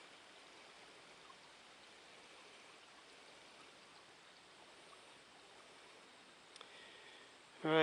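A forest stream runs steadily, a soft continuous wash of flowing water heard from nearby, quiet and unbroken, with a brief louder knock right at the end.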